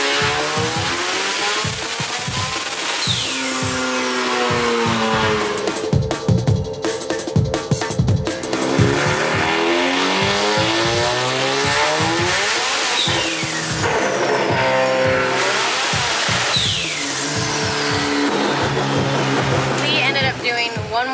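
A rotary-swapped Nissan S15 with a DCT gearbox and turbo roars on a dyno, loud sweeping revs rising and falling through repeated pulls with brief breaks, voices faintly underneath.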